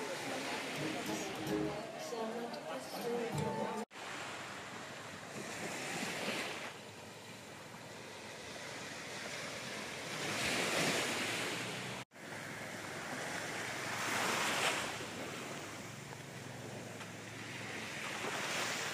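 Ocean waves washing onto the beach at Sairee on Koh Tao, a steady surf wash with swelling rushes and wind buffeting the microphone, people talking over it.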